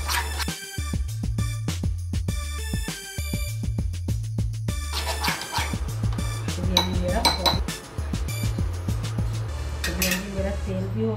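Gram flour batter mixed with hot oil is beaten in a bowl, producing rapid, rhythmic clinking and scraping of a utensil against the dish, close and continuous with brief pauses.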